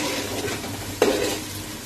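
Spice paste for Rajkot-style chapadi undhiyu cooks in a hot pan with a steady close sizzle, broken once by a sharp clink of a spoon against the pan, with no one speaking.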